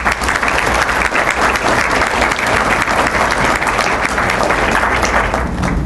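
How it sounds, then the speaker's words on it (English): A large audience claps loudly and steadily for students at an Alpha Lambda Delta honor society initiation ceremony. The dense applause runs without a break and no one speaks over it. "let's give these folks a big round of applause"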